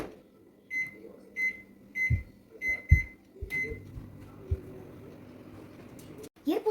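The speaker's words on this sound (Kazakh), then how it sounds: "Сақталған сабын негіздерін шыны ыдысымызға салып алып, қысқа толқынды пешке салып 10 минутта ерітіп аламыз" A microwave oven melts soap base in a glass bowl: a run of short, evenly spaced electronic beeps over a low hum, with a few dull thumps and some talk in the background.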